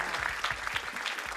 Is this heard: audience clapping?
yes